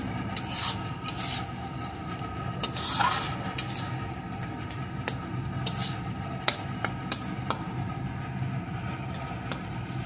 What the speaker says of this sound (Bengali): এখন ভালো করে এইভাবে কিছুক্ষণ নাড়িয়ে রান্না করে নেব।